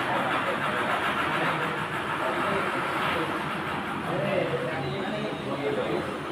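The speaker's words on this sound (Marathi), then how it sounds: "आता आपण स्टार्टिंग हँडलच्या साह्याने कंपाऊंड मोटर स्टार्ट होतो।" A DC compound motor started through a four-point starter gives a steady, broadband whirring hum at constant loudness, with faint voices in the background.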